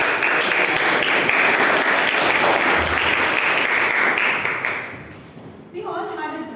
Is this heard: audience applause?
yes